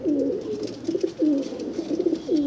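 A pigeon coos nearby in a low, throaty voice, repeating its rolling call about five times in a steady rhythm with no voices over it.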